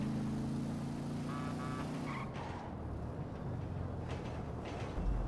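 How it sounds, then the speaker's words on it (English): Gang cars driving in GTA V Online: a steady, close engine drone with a low humming tone for the first two seconds, then continuous road and tyre noise at moderate level, with no talk. "So it looks like the cars are finally coming out."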